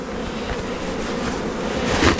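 Bees buzz around an open hive during a June hive inspection, a dense, steady drone that holds throughout and swells slightly toward the end, with no talking.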